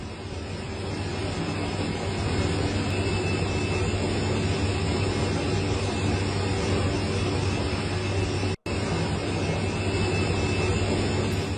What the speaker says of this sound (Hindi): मच्छरों को खत्म करने के लिए इस बार स्प्रे मशीन से नहीं बल्कि हेलीकॉप्टर से छिड़काव हो रहा है